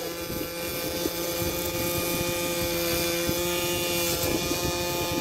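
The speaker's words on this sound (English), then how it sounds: "So I think the plane needed some fuel. And it started!" A string-started model airplane engine runs steadily at a park kite-flying event, a continuous loud buzzing drone with a rough, unbroken tone under open-air wind noise.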